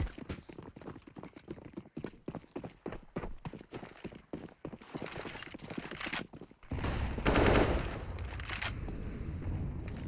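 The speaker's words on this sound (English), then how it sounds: "Grenades in every direction." Rapid gunfire and grenade blasts from a CS:GO match on the Inferno map: dense, crackling bursts of shots fill the first half, then a louder, sustained wash of explosions and chaos follows.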